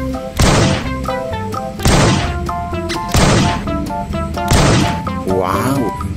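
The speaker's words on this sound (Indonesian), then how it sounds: "ini adalah mainan tembak-tembakan shotgun" Four loud electronic blasts from a toy shotgun, each burst followed by a ringing tonal tail, evenly spaced, ending with a warbling electronic sound.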